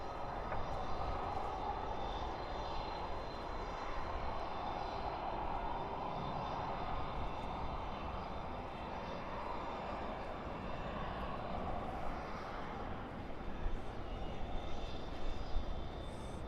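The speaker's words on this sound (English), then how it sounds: "And there's China Airlines Cargo right there. Beautiful plane." A China Airlines Cargo plane at Dallas/Fort Worth airport at night, a steady broadband jet engine roar sustained throughout, moderately distant with a slight swell near the end.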